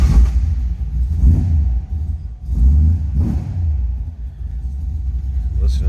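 A 1964 Ford Falcon Futura with a 302 V8 and Tremec 5-speed rumbles at a steady idle close by, its low engine note swelling in a few throttle blips.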